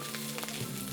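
Onion sizzles and crackles steadily in hot oil already full of garlic while dinuguan con gata is cooked, a close, even frying hiss with no voices.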